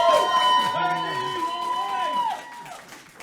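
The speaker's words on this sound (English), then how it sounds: "By applause, who favors the turkey?" At an April Fools' debate, an audience voting for the turkey breaks into cheering, whooping and shouting, a crowd of voices with some clapping that fades out toward the end.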